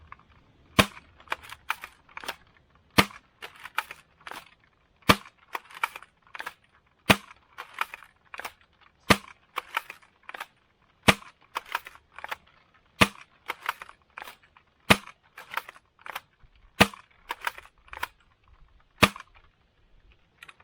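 A Scar foam blaster fitted with a T238 tracer unit fires yellow T238 foam darts through a chronograph, one sharp snapping shot at a time, each about a second apart, with quieter mechanical clicks between the shots.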